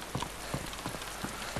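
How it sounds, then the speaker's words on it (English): Rain falls steadily in the survival game DayZ, a soft continuous patter with brief pulses of heavier drops, moderately quiet and heard on its own without talk. "Oh god, here comes the rain again."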